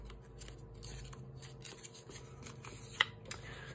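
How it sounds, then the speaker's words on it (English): Scissors trimming the straight edges of paper for a mini art journal spread: quiet, close snipping and rustling with a couple of small sharp cuts near the end, no talking. "I don't like all the straight edges, so I'm just gonna trim that down."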